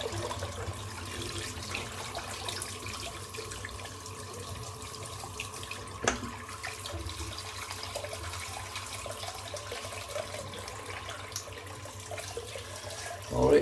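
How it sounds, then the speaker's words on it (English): Hot water runs steadily from a bathroom tap into a sink during a wet shave, a quiet continuous stream with faint splashes and no speech. "Just going to fill that up with some more hot water."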